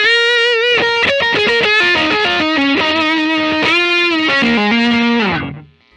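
A Fender Japan Michiya Haruhata Stratocaster electric guitar on its neck pickup, played through heavy distortion, rings out in a loud, sustained lead line of bent and picked notes that fades out at the end.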